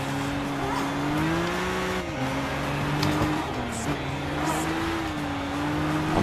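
Racing car engine in the Gran Turismo 6 video game, a steady droning tone that rises and drops with gear changes and throttle, with faint tyre noise and occasional brief voice in the background.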